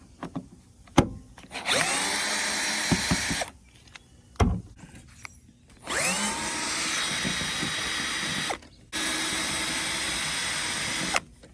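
A power drill with a T30 Torx bit whirs in three sustained bursts, backing bolts out of the roof rack on a 2004 Honda Odyssey, with short knocks and clanks between runs, loud and close.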